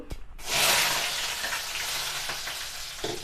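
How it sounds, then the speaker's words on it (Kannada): Spices for a tempering crackle and sizzle loudly in hot oil for saaru made with amaranth stems, a sharp burst that settles into continuous frying hiss with a few pops, close and without speech. "ನಾನು ಒಗ್ಗರಣೆ ಹಾಕ್ತಾ ಇದ್ದೀನಿ ಸಾರಿಗೆ"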